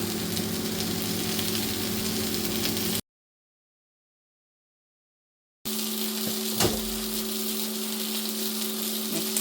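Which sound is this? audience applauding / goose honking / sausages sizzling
sausages sizzling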